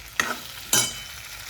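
Drumstick (moringa) curry with spices being stirred in a frying pan: two quick scraping strokes over a soft background sizzle, close and clear.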